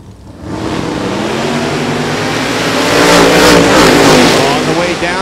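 A 1970 Dodge Challenger and a 1969 Chevrolet Camaro drag racing down the strip at a hot rod reunion, loud roaring V8 engines rising steadily as they accelerate past, with an announcer talking over the noise.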